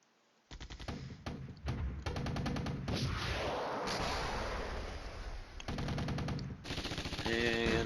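Dense game gunfire and artillery barrages in Flashpoint Campaigns: Red Storm, a Cold War tactical wargame, hammering in rapid bursts of shots and booms with brief gaps, then a sustained roar of explosions, loud and close.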